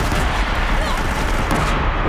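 Explosive weapon fire in Horizon Zero Dawn, a dense roar of blasts and booms sustained loudly throughout, with battle noise and voices mixed in.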